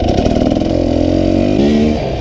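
A dirt bike fitted with cone valve forks rides around a yard, its engine droning loud and close with a steady rasping note that climbs slightly as it accelerates.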